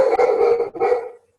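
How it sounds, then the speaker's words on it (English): A dog barks in the background of an online information session, giving two drawn-out, howl-like barks that sound harsh and compressed as they come through a call connection. "Whose dog is barking?"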